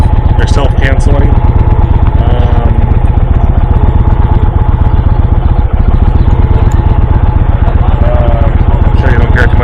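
A 2023 Indian Dark Horse Pursuit motorcycle's engine runs loud and close with a steady, low, throbbing idle rhythm, while people talk over it.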